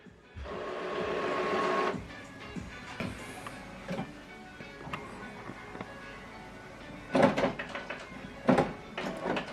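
An HP Officejet Pro inkjet printer (9010e/9014e/9020 series) runs its check on newly installed ink cartridges, giving a long whir of mechanical motor noise followed by a series of clicks and clunks from the carriage, with no talk.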